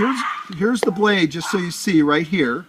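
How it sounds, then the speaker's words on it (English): A dog barks a few times in the background of a workshop while someone talks in the foreground about an edgebanding blade. The short yips sit partly under his voice. "That was my dog barking in the background,"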